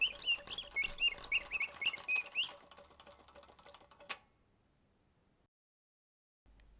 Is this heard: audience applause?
no